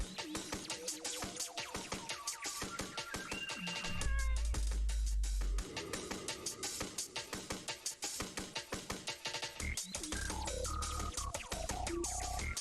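A pet cat meows repeatedly indoors, its drawn-out cries rising and falling over a busy, continuous background of other sound.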